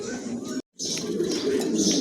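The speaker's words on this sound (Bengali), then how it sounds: "দেখার মতন কবুতর" Pigeons at a loft, including a red bar pair, cooing softly and continuously close by, with a low, burbling murmur that drops out for a moment and then carries on at steady volume.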